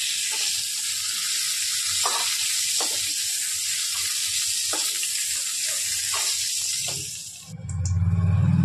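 Pieces of parwal (pointed gourd) fry in hot oil with a loud, steady sizzle and scattered soft pops. The sound changes abruptly near the end.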